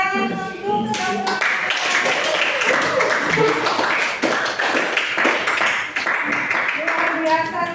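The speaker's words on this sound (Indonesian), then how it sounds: "Sekali lagi tepuk tangan untuk semua." Classroom audience applause for students after a heat-transfer lesson: dense, sustained clapping from many hands filling the whole stretch, close and loud, with a voice talking over it at the start.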